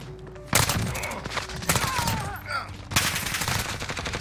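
Gunfire in Modern Warfare comes as bursts of rapid automatic shots, close and sharp, in several volleys with brief pauses between.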